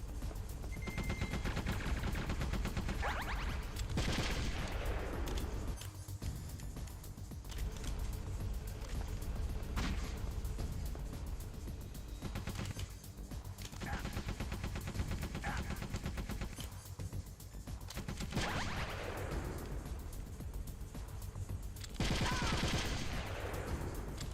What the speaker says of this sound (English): Don't walk into the gunfire.